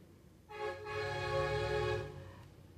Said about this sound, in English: that is someone with a horn outside my home